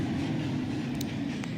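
An NYC subway 1 train pulls into a station with a loud, steady rumbling roar of wheels and cars close by, brief high squeals cutting through near the end, and no voices.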